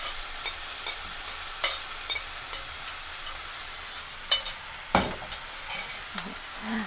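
Chinese fried rice with meat and vegetables is stirred in a hot pan, giving a steady low sizzle broken by soft scraping and tapping of the utensil against the pan.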